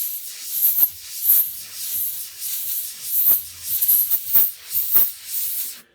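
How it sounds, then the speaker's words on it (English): Steady high airy hiss with a thin whistling edge from an airbrush, air spraying down into drilled holes while painting a model horse's mane, continuous throughout, pulsing slightly in loudness, close and fairly loud with no voices. "That whistling you hear is when the air is starting to spray down into these holes"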